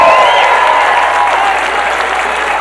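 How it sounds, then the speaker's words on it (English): A large crowd at a memorial celebration in Garden Grove, California claps and cheers in a dense, steady wave of applause that continues throughout without pause. "One more time, a huge round of applause for Tom Wilson."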